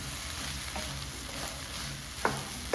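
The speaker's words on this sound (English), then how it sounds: "Stir it through." Spinach leaves stirred through Indian fried rice in a hot pan, giving a steady close sizzle with soft scraping and one sharper clack of the utensil near the end.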